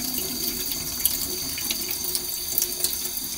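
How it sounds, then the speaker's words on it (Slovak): Potatoes being rinsed clean under a running cold-water tap in a kitchen sink, a steady close splashing stream with small irregular spatters, no voices. "zemiaky ešte umyjeme v studenej vode od prípadných nečistôt"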